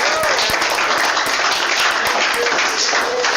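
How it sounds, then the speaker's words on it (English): An online audience cheers and applauds over open microphones at the end of a video conference, a dense, steady wash of clapping and noise with a few voices mixed in. "Yeah, turn your microphones on and do a cheer."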